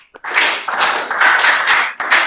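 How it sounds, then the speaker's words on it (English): An audience at a kids' leadership panel claps for a teen panelist, a close, loud patter of many hands that starts abruptly, holds steady with small surges, and briefly dips before continuing. "Let's clap for him"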